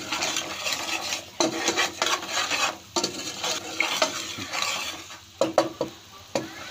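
Ginger garlic paste and pav bhaji masala sizzle in a pan while a spoon stirs and scrapes against the metal in irregular bursts, close and fairly loud, with occasional clinks.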